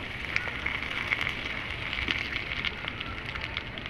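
Two dried red chillies and bay leaves sizzle in hot oil in a pan, a continuous close hiss sprinkled with small irregular crackles and pops, steady in level without talk.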